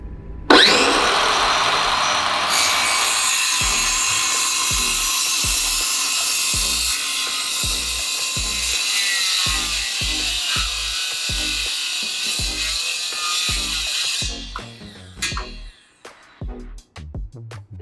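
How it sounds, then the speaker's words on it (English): A power saw cuts through pallet wood in one long, loud, continuous run of about fourteen seconds, with a rhythmic thumping under the whine. It spins down at the end, followed by a few clunks of handling. "You want to make sure that your saw is going at full speed before it enters the material."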